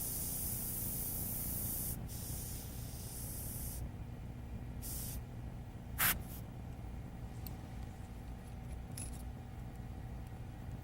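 An airbrush sprays paint while an animal picture is being painted, a steady close hiss of air and paint that cuts out and resumes in short bursts, with a sharp click midway.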